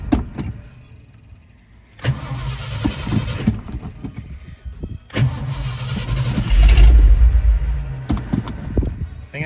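A 1986 Ford F-350 truck engine cranks and catches twice, loud and close, the second start roaring up to a rough idle, with a quiet pause between attempts and no talking.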